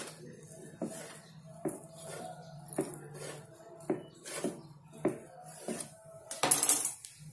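A knife cutting cooked egg into noodle-like strips for an egg noodles curry, with repeated light taps and clinks of the blade on a board or plate, spaced irregularly and close by in a quiet kitchen.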